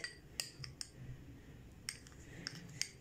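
A spoon clinks lightly against a bowl while stirring a creamy chickpea, yogurt and honey face mask, with a few faint, close, irregular taps over a soft, quiet background.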